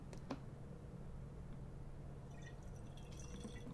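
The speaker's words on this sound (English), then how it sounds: "our first ingredient is going to be just a dash of water" A small dash of water is poured and dripped into a witch's love potion in a quiet ASMR setting. A few soft drips and light trickles sound close by over a steady low hiss, with faint clinks near the end.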